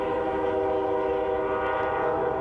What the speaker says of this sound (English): whenever you hear a train go by